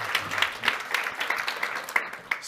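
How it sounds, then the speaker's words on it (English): An audience gives a round of applause for the team behind an event, a steady patter of many hands clapping together at moderate volume. "so I'll do a round of applause for them to start with"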